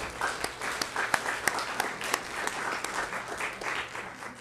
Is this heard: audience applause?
yes